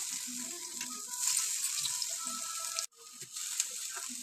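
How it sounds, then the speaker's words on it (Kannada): Raw banana slices fry in hot oil on a tawa, a continuous crackling sizzle with a brief break near the end before it resumes, and no talking. "ಚೆನ್ನಾಗಿ ಫ್ರೈ ಆಗಿದೆ ನೋಡಿ, ಬೆಂದಿದೆ"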